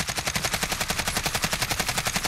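An AKS-74U fires in Call of Duty Modern Warfare in one long, rapid, evenly spaced full-auto burst of loud gunshots, heard alone.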